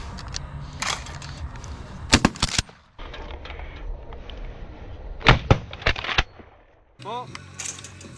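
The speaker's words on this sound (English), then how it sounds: "Both of them explode as we shoot." An Ithaca shotgun fires at skeet clays in sharp, loud blasts in two close pairs, each followed by a brief echo, with a voice speaking between shots.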